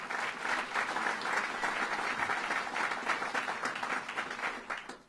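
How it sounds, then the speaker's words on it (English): A crowd applauds county executive Maggie Brooks at a governor's budget address in Rochester: dense, even clapping from a large audience holds steady for about five seconds before tapering slightly at the end. "Let's give her a round of applause."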